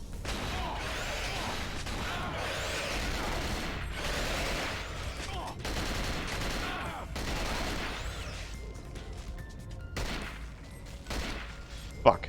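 Rapid bursts of gunfire aimed at a creature in the Cold Fear video game, repeated volleys with brief pauses between them, loud and close, ending in scattered shots.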